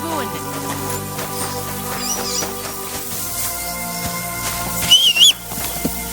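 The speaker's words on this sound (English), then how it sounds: "Are you whistling just for fun?" A character whistles in the medieval role-playing game Kingdom Come: Deliverance II, a short wavering whistled phrase near the end over a steady musical and ambient game background.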